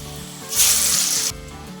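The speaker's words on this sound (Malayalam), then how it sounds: "നമ്മൾ ഉണ്ടാക്കി വെച്ച കിഴങ്ങ് ഒരു പിടി നല്ലവണ്ണം കയ്യിലെടുത്തതിന് ശേഷം എണ്ണയിലേക്ക് ഇട്ട് കൊടുക്കുക" A handful of mashed potato mixture for a Thalassery-style koyikkal snack drops into hot oil and bursts into a loud, bright sizzle that lasts under a second before settling back to a quieter bubbling.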